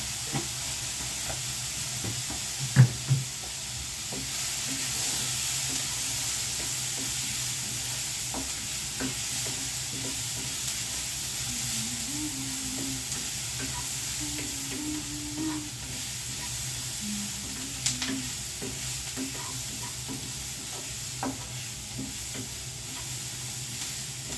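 Onions coated with turmeric powder frying in a pan give a steady, low sizzle throughout, with occasional stirring scrapes and clicks and no talking.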